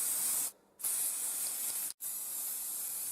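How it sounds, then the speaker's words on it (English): Hobby spray paint hisses steadily from an aerosol can onto a recast stunt pulse rifle prop, with two short breaks in the spray, one brief and one near-instant, before the hiss resumes. "For this I just used ordinary hobby spray, which you can pick up at most DIY shops."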